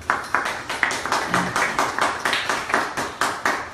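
A church congregation claps in a steady, even rhythm, about four claps a second, fairly close and moderately loud, with no talking.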